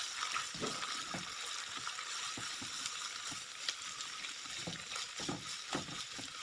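Chopped cabbage and capsicum cook in a hot pan for chicken macaroni, giving a steady sizzling hiss with occasional soft scrapes and stirring clicks, even and moderately loud throughout.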